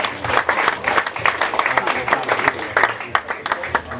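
A live audience at a quiz-style stage event claps in a dense, lively round, close and loud, with crowd noise mixed in throughout.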